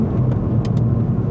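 A Ford Focus S+ 1.5L EcoBoost accelerates on the road, heard from inside the cabin as a steady, loud low engine and road drone without a sudden turbo surge.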